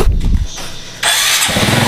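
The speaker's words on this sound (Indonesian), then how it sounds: "Oke, motor udah hidup." A Honda Supra 125 motorcycle, just repaired after losing ignition, cranks briefly and then fires up into a loud, close, steady idle with no one talking.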